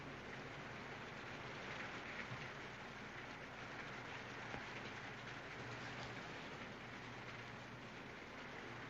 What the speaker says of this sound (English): That's a bit of luck. The rain's stopping.